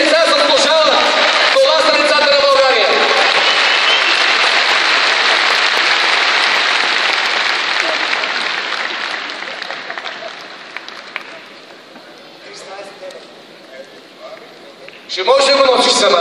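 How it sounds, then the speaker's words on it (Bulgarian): Sustained audience applause fills an awards ceremony hall for the annual arts prizes of the Encho Keryazov Foundation, loud and dense at first, then thinning and fading toward the end as a voice speaks over it. "Да чуем още силни аплодисменти, уважаеми господа."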